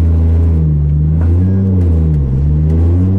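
A Nissan R33 Skyline's engine rumbles loud and close during a hill start, holding a steady low drone that dips and rises slightly as the car pulls away uphill.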